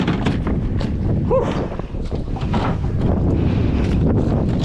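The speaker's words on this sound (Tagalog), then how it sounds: "Malakas na yung hangin." Strong wind during bad weather while fishing buffets and roars across the microphone continuously, loud and unbroken, with a faint creak partway through.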